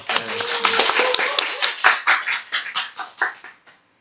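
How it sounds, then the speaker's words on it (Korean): A small group at a reading club meeting in a café claps together, starting as a busy patter, then thinning into a few scattered, distinct claps that fade out near the end. "우리 박수를 한번."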